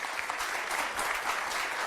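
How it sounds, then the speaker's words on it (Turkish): Sustained applause from an audience, many hands clapping steadily and fairly loudly throughout with no pauses or voices standing out. "bu alkışlar"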